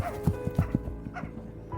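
A large black dog barks in a short run of several sharp, fairly close barks at a night forest's edge, with a low rumbling background underneath.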